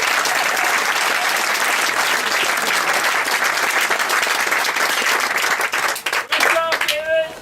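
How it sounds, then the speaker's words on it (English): Audience applause at a farm-to-fork dinner on a farm, steady and loud clapping from a crowd filling most of the clip, thinning into scattered claps and a few voices at the end. "So let's give him a round of applause."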